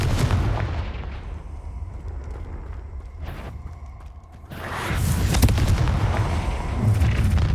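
A Confringo fire spell blast in the Hogwarts Legacy video game, a loud sustained booming rumble that dips briefly and then swells into a heavier burst of crackling explosive roar.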